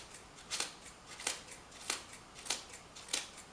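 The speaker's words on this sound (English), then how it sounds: "And then I just cut it across the roll." Scissors snip through a rolled-up sheet of tissue paper, cutting it into small rings: five crisp, close cuts at a steady pace, each a brief bright rasp, with no talk.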